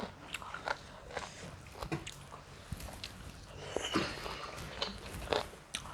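Close, wet chewing and biting of soft-boiled onsen eggs, with irregular smacking and crunchy bites spread through the meal, heard near and alone at low volume.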